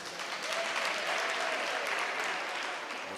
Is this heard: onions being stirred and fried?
no